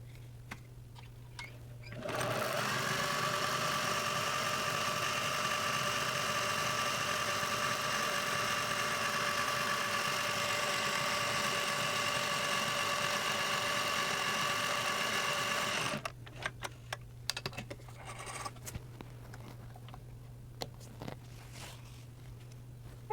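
A Singer 403A sewing machine runs steadily for about fourteen seconds, sewing a decorative icicle stitch with its original cams. The motor hum and rapid needle chatter are close and even, then stop abruptly into quiet room noise.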